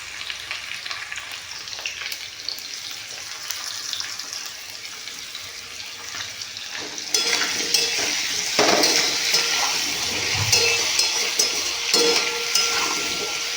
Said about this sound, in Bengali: এগুলোকে একটু ভালো করে একটু ভেজে নেব